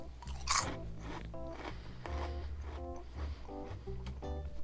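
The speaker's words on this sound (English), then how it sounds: "It has that kind of crunch to it" Lonely God tomato potato twists are crunched and chewed near the mic, a sharp opening bite followed by repeated crisp crunches in a loose chewing rhythm.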